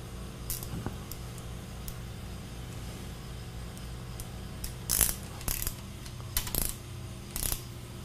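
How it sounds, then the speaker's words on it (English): A ratchet wrench torques down a flange, with a few faint early clicks and then a cluster of sharp metallic ratcheting snaps and taps in the second half, close but intermittent over a low background hum. "now we can go ahead and torque this down."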